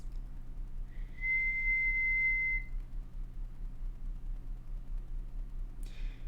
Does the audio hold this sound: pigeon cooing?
no